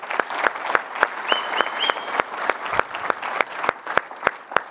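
A conference audience claps for the suppliers at a closing session, a sustained round of applause from a sizable crowd, with some louder individual claps near the front.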